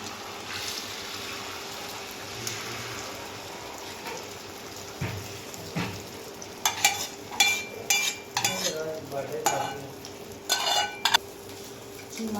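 Eggs frying in a pan make a quiet steady sizzle, joined partway through by a run of clinking spatula and utensil knocks against the cookware.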